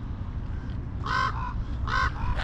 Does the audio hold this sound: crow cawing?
yes